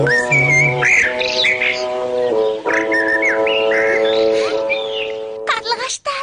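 Swallows calling in a Kazakh animated cartoon, a string of whistled chirps and squawks over a sustained musical tone, loud and close.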